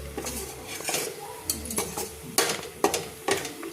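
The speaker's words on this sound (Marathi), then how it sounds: "एकीकडं माझं बेसनही हलवायचं काम चालू आहे." A utensil scrapes and knocks against a pan as besan (gram flour) is stirred on the stove, with repeated sharp clinks at irregular intervals and a soft sizzle underneath.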